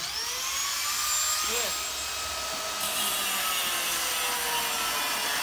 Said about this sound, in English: I gotta cut the other two clamps off the back